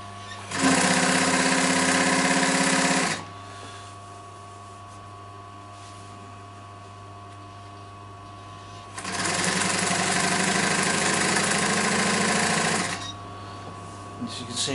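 A sewing machine stitches piping for a cushion in two loud, steady runs, each a few seconds long, separated by a quieter pause where a low electrical hum continues underneath.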